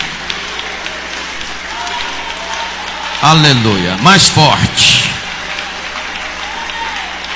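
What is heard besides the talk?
congregation applauding Jesus Christ in church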